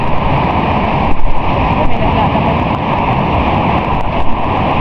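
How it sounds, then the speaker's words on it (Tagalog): Strong rush of fresh water pouring at Camp Dalugan in Casiguran, Aurora, a loud steady broadband roar that runs the whole time, close by. "Ayan, may malakas na tubig."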